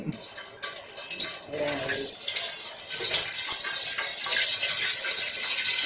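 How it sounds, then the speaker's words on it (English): Cold water dropped into hot frying oil for Southern-style chicken tenders and fries gives a steady, close crackling hiss that builds after a couple of seconds and carries on to the end. "I'm going to test my oil with a little cold water"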